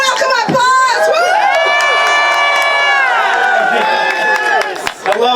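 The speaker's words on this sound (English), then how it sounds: "Please warm welcome applause. Woo!" A crowd at a legislative day event cheers and whoops loudly for an introduced state representative, overlapping shouts and voices with scattered clapping, close and energetic.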